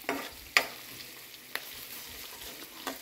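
Ginger garlic paste fries in a pan while okra curry is being cooked, giving a soft steady sizzle broken by a few sharp spatula clacks against the pan.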